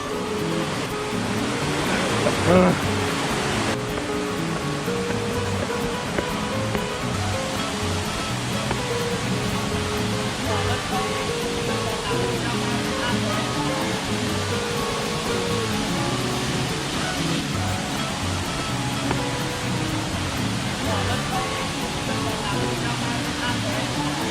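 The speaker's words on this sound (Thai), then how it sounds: "อันนี้เป็นบรรยากาศทางใต้ของน้ำตก" Waterfall at Kaeng Yui in Vang Vieng, Laos, heard from below: a steady, broad rushing roar of falling water that fills the whole stretch, with faint voices now and then underneath.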